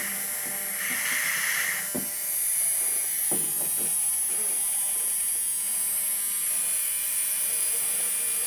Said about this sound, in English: what is a good lubricant for this DC hobby motor, which I would like to have it run constantly like this